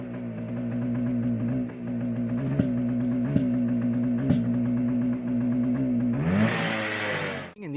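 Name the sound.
engine bogging and backfiring after air filter fitted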